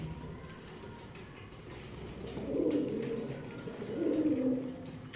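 Pigeons in a loft coo softly in two low, swelling phrases over a faint, steady background.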